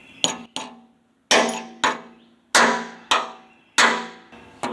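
A hammer drives a spreading pin into place, with about nine sharp metallic strikes in an uneven rhythm, each ringing briefly before the next blow, loud and close with no talk.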